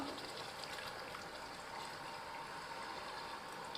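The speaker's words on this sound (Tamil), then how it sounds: "இப்போ நம்ம தேவையான தண்ணியை ஊற்றிக்கலாம்" A soft, steady stream of water pouring into a pot of chicken curry, quiet and even throughout.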